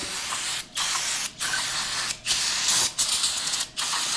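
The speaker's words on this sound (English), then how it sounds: "We're just going to spray them down, get out wiping that off there." Five short, loud bursts from a spray bottle hiss in quick succession, each separated by a brief pause, as cleaner is sprayed onto piston rings from a 1930 Ford Model A engine.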